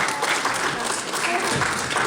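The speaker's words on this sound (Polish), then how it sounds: "Wielkie brawa." Loud, close audience clapping for first-place winners at a school Christmas and carnival performance review in Brodnica, dense and steady, with voices mixed into the crowd noise.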